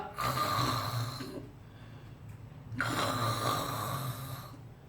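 A wolf snoring while asleep under a tree, two long rasping snores a couple of seconds apart, each a loud drawn-out inhale followed by a quieter pause, with no talking.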